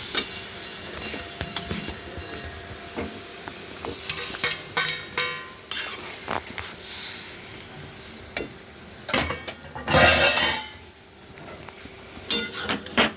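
Chicken pieces fry in a pan while being stirred, with frequent scraping and clinking strokes over a low sizzle. A louder, longer scrape comes near the end, heard close up with no talking.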